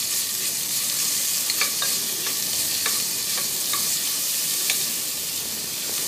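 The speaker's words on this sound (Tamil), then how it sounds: "இதை கொஞ்சம் எண்ணெயில் வதக்க விடுவோம்" Onions sautéing in oil in a pan for a pressure cooker chicken and potato curry, a steady close sizzle with light scrapes and stirring clicks scattered throughout, no voices.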